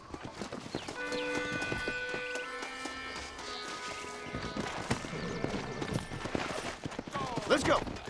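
Horse hoofbeats clop in a steady riding rhythm in the Red Dead Redemption video game, under tonal music, with a neigh and a voice speaking toward the end.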